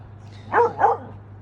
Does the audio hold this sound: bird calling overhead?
no